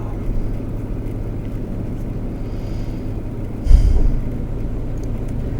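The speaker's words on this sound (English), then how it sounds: "I just like sitting here watching all the cars go by" Traffic rumbles steadily past on a road heard from inside a parked car, a low continuous wash with one louder vehicle swelling briefly near the middle.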